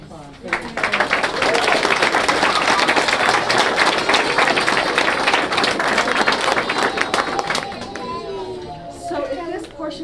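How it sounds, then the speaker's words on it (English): Audience at a kindergarten graduation clapping loudly and continuously for most of the clip, with children's voices mixed in, before the applause thins out near the end. "Let's give these kids another applause."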